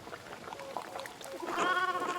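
Sheep bleating in the medieval video game Pentiment, with a wavering, tonal bleat swelling loud and close near the end over faint ambient farmyard sound.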